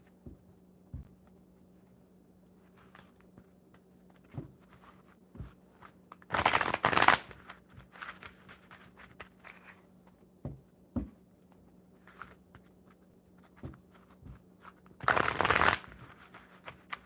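A deck of tarot cards is riffled and shuffled close by in two loud bursts about eight seconds apart, with quiet taps and handling noises scattered through the faint background hum between them.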